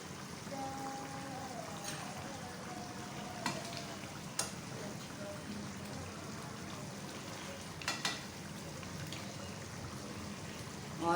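Mutton masala gravy fries and is stirred in a pot, a soft, low sizzle with occasional sharp spoon scrapes and knocks against the pan.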